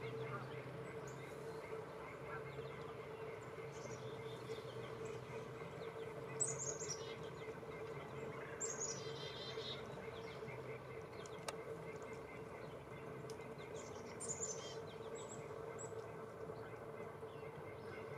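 Chickadees give faint, brief chirps at a backyard bird feeder, scattered over steady low rumbling background noise, with distant Canada geese honking possible.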